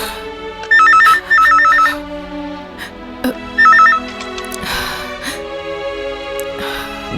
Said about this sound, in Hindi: मैडम, आश्रम से अनिता जी ने फोन किया, आपसे बात करना चाहती है